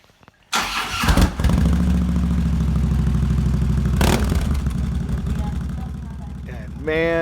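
A motorcycle engine with a repaired exhaust pipe, previously leaking from a hole at the bottom, catches and starts, then settles into a loud, steady close-up idle with a brief revving surge near the end.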